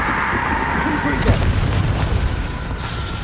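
A Confringo blasting spell fires in Hogwarts Legacy, and its loud, deep boom bursts over rumbling battle noise and a steady high hum.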